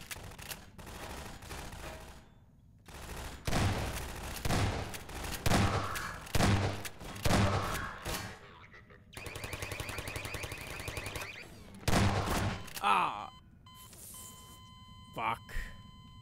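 Automatic turret gunfire in Half-Life 2 rattles in several rapid bursts separated by short pauses, loud and close, with a person talking over parts of it.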